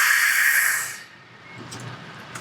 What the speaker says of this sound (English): Pressure relief works very well.